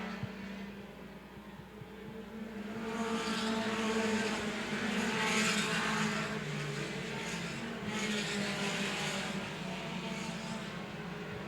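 Mini stock race cars lapping a speedway oval during a 30-lap feature, a distant engine roar that swells as the pack passes and then fades, fairly faint and continuous.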